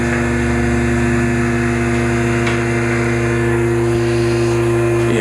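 A Toyota Supra engine with a 1J swap idles steadily with a deep, even exhaust rumble, close by and constant throughout, no voices.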